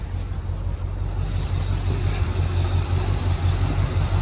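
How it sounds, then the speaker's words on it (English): A 1981 Chevrolet Corvette engine runs at a steady idle with a low, even rumble that holds constant throughout, and no voices are heard. "So now here's the motor as it's running."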